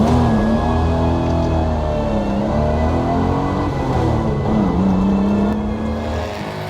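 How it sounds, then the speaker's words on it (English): Historic cars warm up at the Autodrome in the early morning, several engines idling and revving together in a loud, sustained drone with shifting pitches, close by and without voices. "the Autodrome vibrates by the sound of the historic cars"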